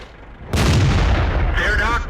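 A single loud tank cannon shot in World of Tanks, a sudden heavy boom followed by a rumbling decay and faint mechanical whine as it fades.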